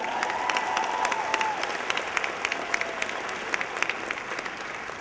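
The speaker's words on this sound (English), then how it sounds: "It's another round of applause" A law school commencement audience applauds continuously, a crowd of many hands clapping at moderate distance in a large hall, holding steady throughout.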